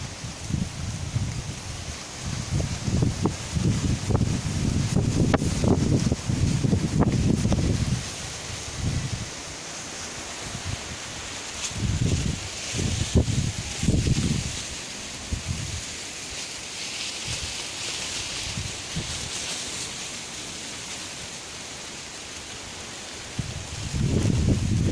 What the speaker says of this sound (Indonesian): hanya berharap angin ini cepat segera berlalu